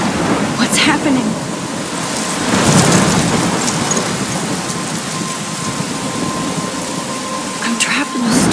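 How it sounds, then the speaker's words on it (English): Steady heavy rain pours through a thunderstorm in the game Life is Strange, with rumbling thunder swelling around the three-second mark and sharper rolls near the start and end. "I'm trapped in a storm."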